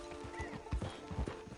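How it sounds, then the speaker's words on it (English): Horse hooves clip-clop at a steady walking rhythm in Red Dead Redemption 2, close and fairly loud, with a horse's whinny near the end. "Get on the horse when you're ready."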